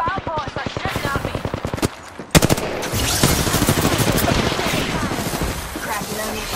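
Rapid automatic gunfire in the Apex Legends battle royale game, loud, dense bursts of shots with a sharp blast partway through, under brief game voice lines.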